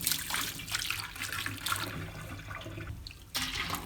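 Tap water running into a sink to rinse yarn dyed with food coloring, a steady splashing flow with small shifts as the yarn is moved under the stream.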